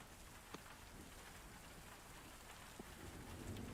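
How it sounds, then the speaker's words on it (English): Steady rain falls in a quiet, faint wash behind a tabletop game scene, with a couple of soft distant thumps and no one talking. "Oh, yeah, it's raining too."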